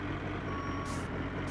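Garbage truck reversing in American Truck Simulator: a steady series of electronic backup beeps over a continuous low truck engine rumble, with a brief hiss of air partway through.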